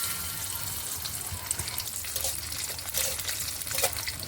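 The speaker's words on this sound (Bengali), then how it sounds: "কাজু আর কিশমিশটা ভেজে নিয়েছি" Cashews and raisins frying in hot oil in a wok give a steady close sizzle, with a few stirring scrapes and crackles.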